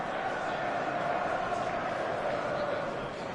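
A stadium crowd roars in the eFootball 2025 football video game, a dense, continuous wash of distant voices and chanting that holds steady throughout.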